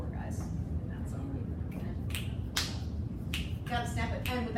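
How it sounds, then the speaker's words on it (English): Sharp finger snaps, about seven of them, spaced unevenly in a small room over a low steady background hum, done as conducting practice without clapping. "Gotta snap it, and without the clap."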